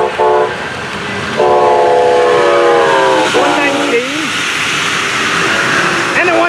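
A northbound freight train on the East Main line sounds loud, multi-note horn blasts in repeated bursts over a steady rumble of rolling cars, close and continuous throughout.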